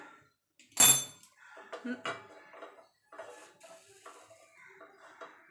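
A cooking pot is set onto a stove in a home kitchen while making sweet curd, giving one loud metallic clank followed by smaller clinks and scrapes of cookware, with a voice talking over it.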